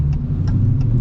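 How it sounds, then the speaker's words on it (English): A new Dodge Challenger R/T with a manual gearbox rumbles with a steady, loud, low engine note up close, with faint light ticks over the drone. "it's just basically a truck engine in a car"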